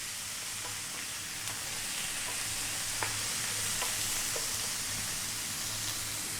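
Ground cumin, coriander, turmeric and chili powders sizzle in a pan for a banana coconut curry, a steady crackling fry with faint stirring ticks and a low hum underneath, no talking.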